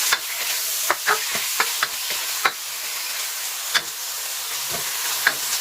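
Pork pieces hit an oiled pan with a steady loud sizzle and hiss, broken by sharp clinks and scrapes of stirring, close and without talk.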